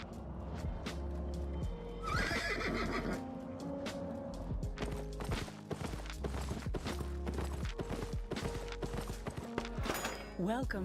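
Horse neighing in the online game Albion Online, a loud drawn-out whinny rising early, then clip-clopping hooves over a dense bed of game music and effects.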